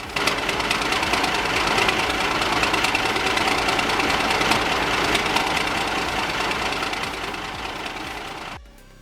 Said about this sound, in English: It's always a treat to hear a 3406B Cat come to life like that.